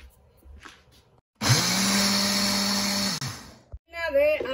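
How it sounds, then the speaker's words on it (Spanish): A blender grinds two cups of oat flakes into flour, a loud, steady whir lasting nearly two seconds before cutting off, with quiet talk before it and a voice afterward. "2 tazas de hojuelas de avena para licuarlas y sacar la harina"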